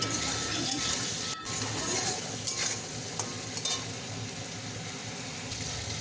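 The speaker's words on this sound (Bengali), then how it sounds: "জিরেটা দিয়েই আমি একটু ভালো করে কষিয়ে নেব" Ground cumin paste frying and being stirred in hot oil in a pan for a Bengali hilsa curry, a steady close sizzle with scraping stir strokes throughout.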